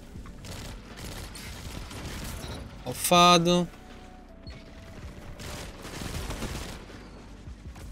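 A legendary raid pulse rifle fires in Destiny 2: one loud, sharp burst of rapid shots stands out midway, with quieter game sounds and players talking throughout.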